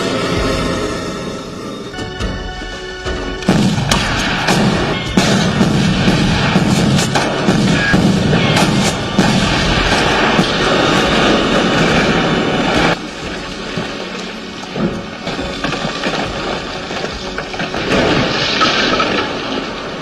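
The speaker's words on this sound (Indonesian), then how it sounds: "dengan segambreng tembakan berbagai jenis senjata" Loud bursts of gunfire and booming impacts from several weapons, dense and chaotic, with rumbling explosions in between and no voices.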